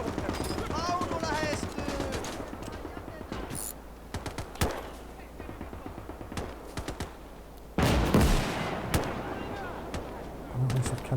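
A cannon fires in the Gates of Hell strategy game, Finnish campaign, booming amid rattling machine-gun and rifle fire, with one heavy loud blast standing out partway through and someone talking over the battle.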